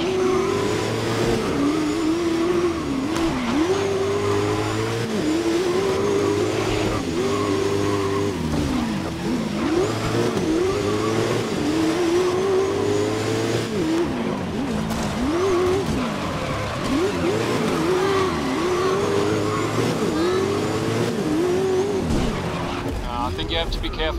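Race cars in the racing video game Grid revving and accelerating at the start, a loud steady engine roar with rising and falling pitch sweeps and faint tire squeal, under continuous talk.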